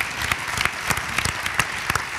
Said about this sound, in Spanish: Un aplauso para Andrés con el kit de habituallamiento.